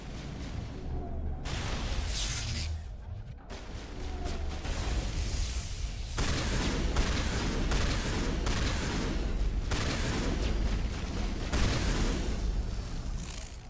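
Explosions and gunfire from the video game Mass Effect, dense overlapping bursts and booms in a continuous loud barrage throughout.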